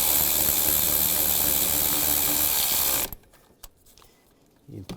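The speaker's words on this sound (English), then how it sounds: "Tighten this one down." Ratchet tightening an exhaust manifold bolt on a 2002-2009 Chevrolet Trailblazer, a loud continuous whirring rasp for about three seconds that stops abruptly, followed by quiet sparse clicks and a brief voice near the end.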